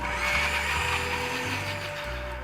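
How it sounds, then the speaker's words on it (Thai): A blender whirs steadily with a loud, continuous motor drone, puréeing garlic, red spur chili and vinegar, its pitch shifting slightly as the mix breaks down, no talking. "แล้วก็นำไปปั่นครับ"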